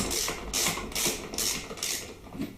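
A ratchet tool turns to undo a swing arm bolt on a Harley Twin Cam 88 motorcycle, making a close, loud clicking ratchet in four to five regular pulls.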